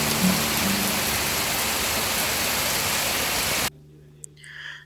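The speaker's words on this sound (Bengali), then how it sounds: "বাইরে এসে দেখছি বৃষ্টি পড়ছে" Heavy rain falls outside on a rainy day as a loud, steady hiss that lasts several seconds, then cuts off abruptly, leaving only a few faint, brief sounds.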